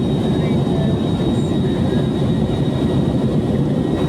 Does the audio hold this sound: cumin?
no